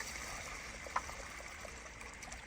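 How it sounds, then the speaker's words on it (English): Water is poured from a bucket of root-stimulant soak onto a newly planted Yucca rostrata, giving a quiet, steady trickle and splash that runs the whole time with a faint brief knock near the start. "Let's go ahead and water it."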